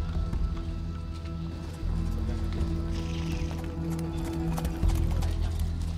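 Horses galloping in a traditional Gayo horse race in Takengon, with steady hoof clip-clop close by, heavy rumbling beneath and an occasional whinny, continuous and loud throughout.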